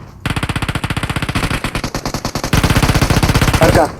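Automatic gunfire in the PUBG Mobile video game, a rapid steady stream of loud close-range bursts that runs throughout and grows heavier in the second half.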